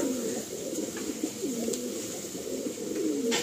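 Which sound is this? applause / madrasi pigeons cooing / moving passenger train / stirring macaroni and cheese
madrasi pigeons cooing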